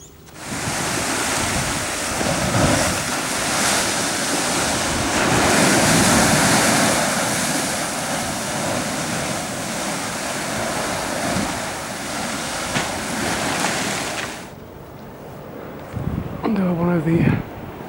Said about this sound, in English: This is the River Esk, which is just meeting the sea.